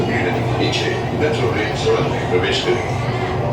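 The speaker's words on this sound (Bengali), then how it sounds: "মেট্রো এখন ছুটে চলল গঙ্গার তলা দিয়ে" A Kolkata metro train runs through the tunnel beneath the Ganges, with a loud, steady rumble and rattle from inside the carriage and muffled voices underneath.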